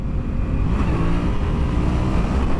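A 2016 Yamaha FZ-07 motorcycle engine gives a steady, loud, close growl on a first ride, with no voices.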